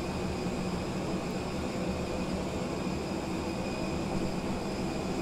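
An Airbus A320neo engine in Microsoft Flight Simulator 2020 produces a steady, even roar with a constant high whine, holding unchanged throughout with no voices.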